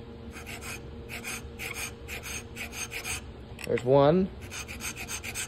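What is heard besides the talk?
filing notches into a sandstone arrowhead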